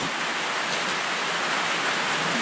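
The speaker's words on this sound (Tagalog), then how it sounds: "lakas na mga ulan." Heavy rain falls in a steady, dense hiss of water that stays constant and fairly loud throughout, with no voices over it.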